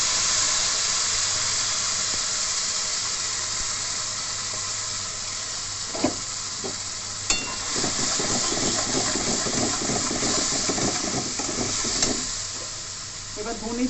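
A spice paste of onion, tomato, melon seeds, dried red chilli, garam masala and raisins sizzles loudly in hot oil for alu matar, a steady close hiss with occasional stirring clinks and scrapes.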